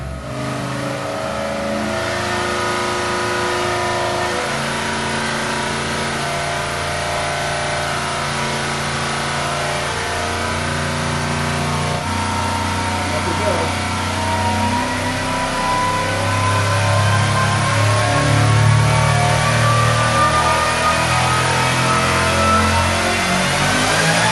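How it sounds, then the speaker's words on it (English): A supercharged small-block Chevy V8 roars through a dyno pull, its engine note climbing steadily and loud for about twenty-four seconds with no talking. "So we just finished off a quick preliminary pull on the blown small block Chevy."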